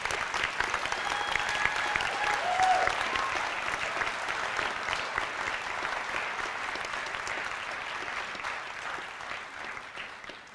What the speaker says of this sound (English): That applause is heartfelt